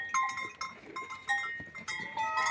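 Goats bleating on a farm: several short, overlapping calls in quick irregular succession, fairly close, with faint ambient farmyard noise behind them and no talking.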